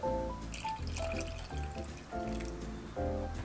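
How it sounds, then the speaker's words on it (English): Water poured into a saucepan of sugar for candied strawberry tanghulu, a close, continuous gurgling pour with bubbling, dripping bursts that swell and fade in a few waves. "We're gonna go ahead and add our water in."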